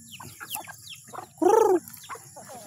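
A chicken gives a short, loud cluck amid quieter scattered clucks and soft scratching sounds nearby.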